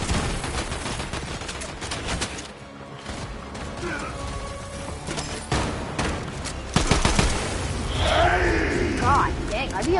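Gunfire from a Fortnite match, a mix of sniper shots and rapid SMG bursts crackling through a busy game soundscape, with someone talking over much of it.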